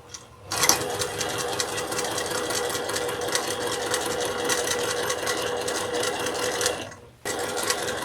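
A sewing machine set to about speed 3 stitches down a Halloween table runner made from fat quarters, a steady close whirring run with a brief stop near the end before it starts again.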